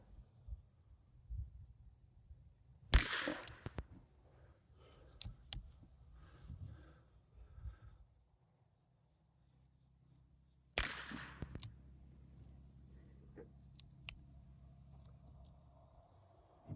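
Two sharp, loud gunshots from a .38 with Speer target loads fired into a cardboard box, spaced several seconds apart, each followed by brief clatter and handling noise in a quiet outdoor setting.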